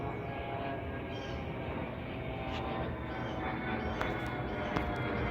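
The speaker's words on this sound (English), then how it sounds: "the sound you're hearing is from that private jet or whatever that is" A low, steady jet engine roar from a private jet rumbles continuously overhead, fairly faint and distant-sounding, with no talking.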